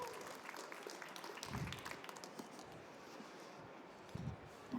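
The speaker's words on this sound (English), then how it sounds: "please give him a warm applause" Scattered applause from a modest audience at a hospitality industry talk, faint and thin, with a few clearer claps standing out as a presenter steps up.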